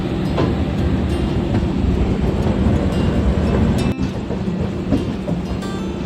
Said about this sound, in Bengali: ট্রেন ছেড়ে দিল শিয়ালদা স্টেশন থেকে